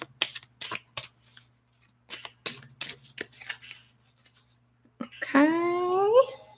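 Oracle cards shuffled and cut by hand at a tarot reading, a series of crisp riffling bursts and soft slaps spaced apart, close and clear, followed by a brief spoken voice near the end.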